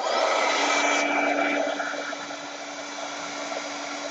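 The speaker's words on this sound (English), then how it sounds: "Now I'm going to use my heat gun." Heat gun blowing steadily over an alcohol ink print, a close, continuous whirring roar with a faint tonal hum that eases slightly in level partway through.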